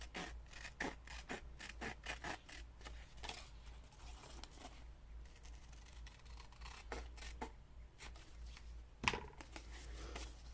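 Scissors snip around a dried paper figure cut from collage material, a run of quiet, crisp clicks and rasps scattered through a soft room hush, with a slightly louder snip near the end.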